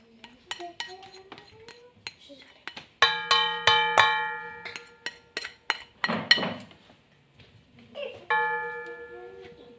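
Urap vegetables being tossed together with ground spice paste in a bowl, giving scattered light metallic clinks and taps, some ringing briefly, close and irregular, with a short soft rustling patch in the middle.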